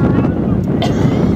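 Heavy, low rumbling wind buffets the microphone continuously at an outdoor soccer match, with a muffled voice faintly underneath.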